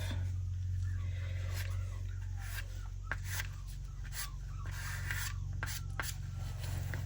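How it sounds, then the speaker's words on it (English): A cloth or tissue rubs steadily over a mixed media junk journal cover, wiping off excess medium. The rasping strokes come close and repeated over a constant low hum. "I'm just going to wipe the excess off."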